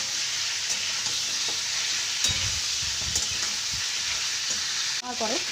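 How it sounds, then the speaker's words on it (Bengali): Chicken pieces fry in a pan with a steady, dense sizzle that stays loud and close throughout, broken by a few soft stirring knocks and a brief voice near the end. "এভাবে আমি কিছুক্ষণ চিকেনটা ভেজে নেওয়ার পরে"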